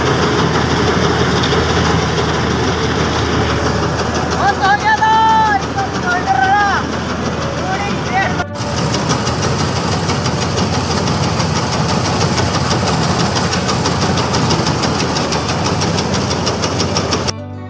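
A farm threshing machine's engine runs continuously, loud and close, with a rough, steady drone throughout and brief voices partly audible over it.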